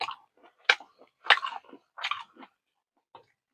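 Close, quiet chewing of spicy beef ball noodles, with several soft wet bites and crunches spaced across a few seconds in otherwise silent surroundings.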